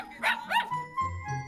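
Dogs and young puppies at a home with about thirty-five dogs bark and yip in a few short, close, high-pitched calls over a faint background tone, with no talk.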